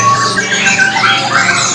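A caged magpie robin (murai blorok) calls loudly and close, a harsh squawking phrase laced with thin whistled notes, heard alone.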